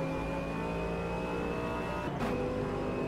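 A GT3 race car in Automobilista 2 holds its engine at full throttle, a steady high-pitched drone with a brief dip and shift near the end, with no voice over it.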